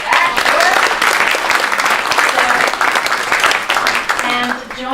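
An audience at a BASF DigitalFab event applauds as panelists return to the stage, a dense burst of clapping close by that lasts several seconds and thins out toward the end, with a voice briefly over it.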